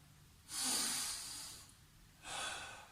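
Two deep breaths drawn during a children's home workout, each a long airy rush of breath, the first longer and stronger than the second, close to the microphone with no talking.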